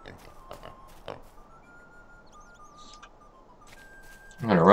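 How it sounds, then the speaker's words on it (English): Pig oinking in the video game Lord of the Rings Online, a short loud squealing grunt at the end after a quiet stretch of faint game ambience and tones. "Old pig."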